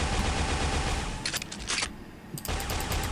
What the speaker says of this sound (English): If I fire 9 shots and then secondary, only 1 comes out.